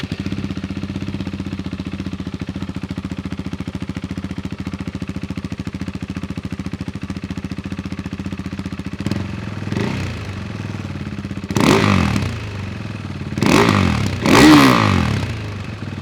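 A Husqvarna Svartpilen 401 engine with its exhaust chamber removed idles with a steady low throb, then revs up in several sharp bursts, loud and close.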